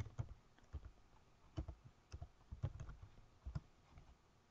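Computer keyboard typing, with soft uneven keystroke clicks in short bursts and irregular taps, close and fairly quiet over low background noise.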